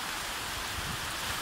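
Steady rain falling in the Serra da Ibiapaba, a continuous broadband hiss with no voices, even and moderately soft throughout.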